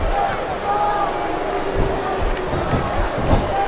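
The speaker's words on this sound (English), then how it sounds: "Now the fans start to cheer for him." Arena crowd in WWE SmackDown vs. Raw 2007 roars and cheers steadily throughout, a dense wash of fan noise with a few louder swells, while commentators talk over it.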